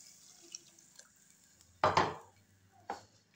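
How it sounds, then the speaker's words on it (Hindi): Water is poured into a pot of potato beef korma in a short, splashing gush, framed by faint clinks of utensils against cookware in a quiet kitchen. "अब इसमें पानी हम डाल देंगे।"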